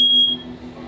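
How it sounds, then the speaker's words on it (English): A smoke alarm goes off in a rental home kitchen, giving one short, piercing high beep that cuts off quickly, fairly loud against a faint background. "setting off just a few smoke alarms"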